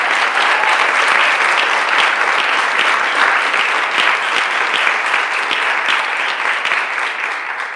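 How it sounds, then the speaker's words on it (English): A large audience at a Kansas City press conference claps in steady, loud, continuous applause that stays dense throughout and eases slightly at the very end. "Give them a round of applause."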